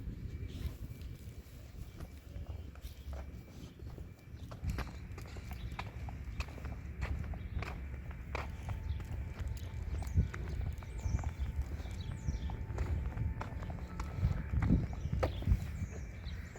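Horse hooves clip-clopping in a video game, a steady walking rhythm of hoof strikes, fairly close and continuous with faint background sounds and no talk.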